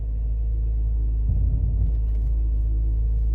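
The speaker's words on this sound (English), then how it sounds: "Starting her up. Pedal goes down as it typically does. Cold start, see RPM's up." A 2008-2014 Cadillac CTS engine idles after a cold start, giving a loud, steady low rumble close up, with a slight rise as the car is put into reverse.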